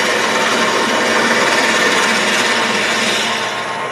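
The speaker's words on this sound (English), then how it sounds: "You can take the skew, long tip down, and you can clean the end up with the skew." Skew chisel held long tip down, cleaning torn end grain on a spinning wood lathe: a steady, close, loud rasping hiss of cutting that runs without a break and eases off slightly near the end.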